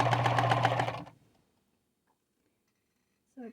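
A sewing machine stitches a necktie, running at a steady rapid rhythm close up for about a second before stopping, followed by near silence and a brief voice at the very end.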